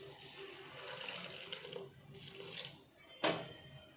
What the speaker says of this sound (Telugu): ఇందులోకి కొన్ని నీళ్ళు వేసేసుకోవాలండి.